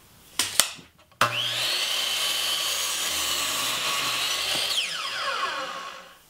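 A power saw, probably a miter saw, cuts an angled 22-degree leg from a 2x4 for a top bar beehive: a couple of sharp knocks, then a high steady whine through the wood for about four seconds, winding down at the end.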